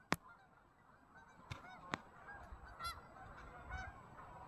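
A flock of wild ducks gives several sharp honking calls at a moderate distance, scattered irregularly over an outdoor background hiss.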